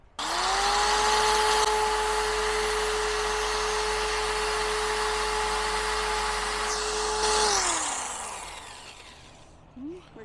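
A drill bores through the door of a vintage Boler trailer, starting with a steady high whine that holds for about seven seconds before winding down and trailing off into quiet.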